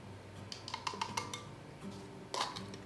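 Unsalted butter and granulated sugar creamed together in a bowl for banana nut bread: faint, quiet clicks and light scrapes of a utensil against the bowl in an irregular run, ending with a slightly louder clatter.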